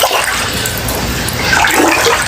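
Floodwater rushes loudly and continuously through a flooded home in Jamaica, a dense steady wash of churning water with no pauses.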